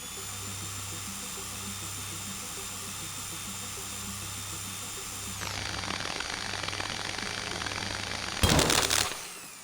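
A drill in the video game Stories Untold whines steadily over a low electronic hum, then shifts to a rougher grinding tone, ending in a brief loud burst.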